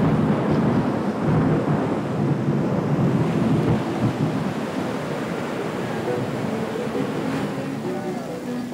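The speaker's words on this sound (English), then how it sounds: "I like the rain because it makes the plants grow" Heavy rain hisses steadily while thunder rolls in a deep, continuous rumble, loud and close throughout.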